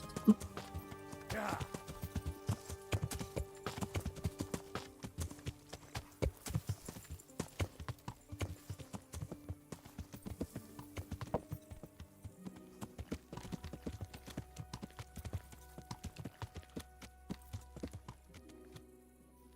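Steady clip-clop of horse hooves trotting for a long stretch in the video game Kingdom Come: Deliverance, even and rhythmic, with a faint tonal background and no talk.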